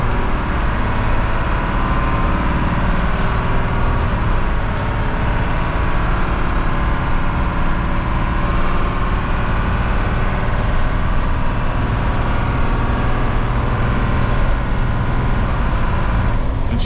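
A 1980s Dennis DS fire engine on the road, heard from inside the cab with a loud, steady diesel engine drone and road rumble that hold constant throughout.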